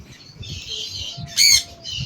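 Lutino Fischer's lovebirds chirp in thin, high calls, then let out one loud, harsh squawk before the chatter resumes, close by.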